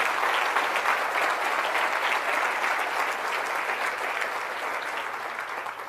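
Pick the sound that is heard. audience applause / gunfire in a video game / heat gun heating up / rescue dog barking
audience applause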